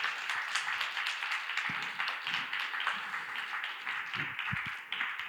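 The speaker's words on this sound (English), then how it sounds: "clap it up for them." An audience at a New York event claps steadily for a group of speakers, producing a dense, even patter of many hands that holds at moderate loudness with no talking over it.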